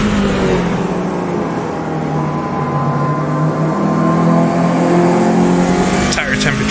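A race car engine in Automobilista 2 howls loud and steady as it accelerates through the gears, a continuous near drone with rising harmonic whine, someone talking over it.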